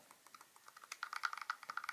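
Buttons on a new Steam Controller are pressed in quick bursts, giving soft, crisp clicks much like a well-lubed mechanical keyboard, close and fairly quiet with uneven rhythm and no talking.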